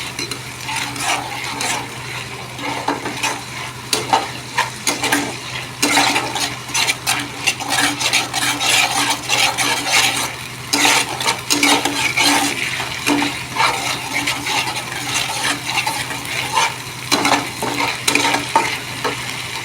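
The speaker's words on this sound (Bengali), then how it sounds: "মশলাটা ভালো করে কষে নেবো" Spice paste (masala) for a vegetarian soybean dish being stir-fried in a pan: a steady, close sizzle runs throughout, broken by repeated scraping stirs of the spoon, with no voices.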